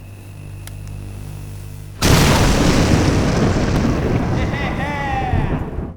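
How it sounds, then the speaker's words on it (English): A house explosion effect for a Christmas movie, a sudden loud boom that becomes a long, dense roaring rumble which slowly fades, preceded by quieter background hum. "we have a gag where the house explodes into a colourful display of Christmas lights"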